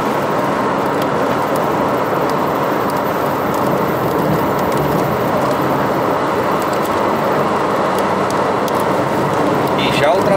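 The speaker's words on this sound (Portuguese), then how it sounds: "Chuva aqui em região serrana, aqui perto de Jequié." Steady broadband road roar from a car driving on the BR-116 highway in rain in the hilly region near Jequié, Bahia, with constant tire hiss and engine noise filling the whole stretch.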